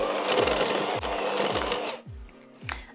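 An electric mixer beats shortbread dough with chopped pistachios, a close motor whir with rhythmic thumps that cuts off after about two seconds, followed by a couple of light knocks.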